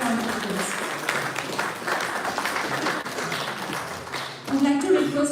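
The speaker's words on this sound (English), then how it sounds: "Give a big round of applause." A round of applause at an AI pre-summit event as a guest is called to the stage: continuous clapping from an audience, mixed with voices and room murmur, swelling louder near the end.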